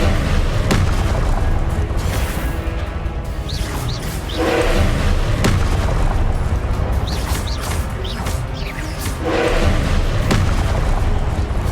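Repeated explosive booms from Confringo fire-spell blasts in Hogwarts Legacy on PS5, landing every couple of seconds over a dense, continuous wash of battle noise.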